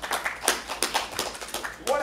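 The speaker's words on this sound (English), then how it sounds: "Give yourself a round of applause." A small group claps for themselves after an improv warm-up exercise, a brief burst of uneven hand claps close by, with talk mixed in.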